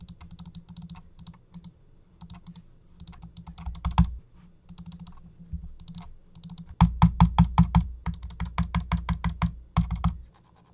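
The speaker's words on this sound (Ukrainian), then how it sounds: "Пропоную послухати її клік і взагалі, які звуки вона видає." Close, sharp clicks from a Dream Machines DM5 Blink S gaming mouse come in quick bursts with pauses, then a faster, evenly spaced run of louder clicks.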